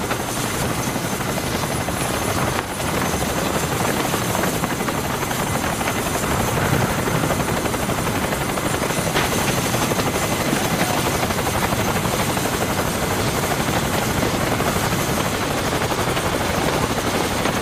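Helicopter with its forward rotor blades running, a loud, steady, close-up whine and whump that continues without letup throughout.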